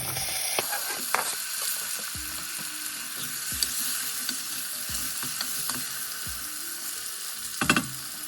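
Chopped tomatoes added to a pan of ginger garlic chili paste, sizzling steadily at moderate volume while a utensil scrapes and knocks against the pan several times.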